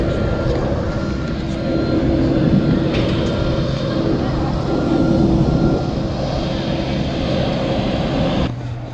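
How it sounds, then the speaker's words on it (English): A steady, loud engine roar from a passenger airplane in flight on the final leg to Kilimanjaro fills the cabin continuously, with little change over several seconds. "Final plane to Kilimanjaro."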